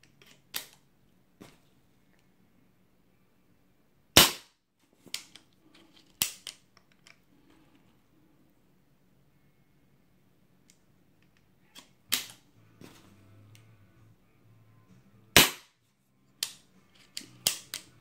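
A Diana Bandit .22 air pistol fires a string of sharp, isolated pops spaced several seconds apart, close and loud against a quiet background with faint handling noise between shots.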